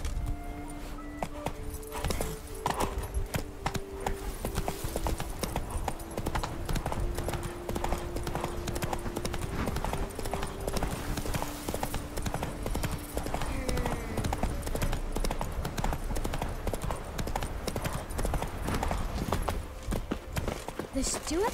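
Roach, the horse in The Witcher 3, gallops with quick, continuous hoofbeats pounding close and loud, while a background game score plays sustained tones underneath and voices are heard.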